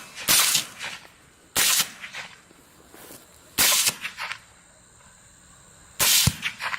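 Four sharp, loud gunshots fired at a feral hog on farmland at night, spaced a second or two apart, each with a brief echoing tail and no talk between them.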